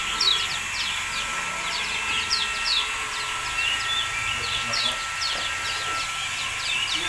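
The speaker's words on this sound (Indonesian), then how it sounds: "Ini burung puyuh warna putih bulunya" A white-feathered quail calls among caged birds at a bird market in Sumenep, giving quick, bright, repeated chirps that carry over a steady hiss of market background noise.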